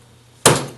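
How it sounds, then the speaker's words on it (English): A single sharp sledgehammer strike, one loud close impact after a moment of near silence, ringing briefly and fading, with no voices. "With a hammer today. Sledgehammer."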